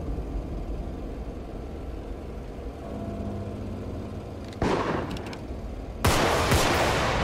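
Gunshots in the zombie video game Contagion, with two sharp, loud bursts of fire near the end over steady background game noise.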